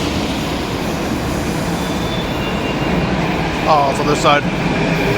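A metro train in an Athens metro station, heard as a steady rumbling roar of rail noise with a few high squeals from the wheels near the end, while a person speaks briefly over it.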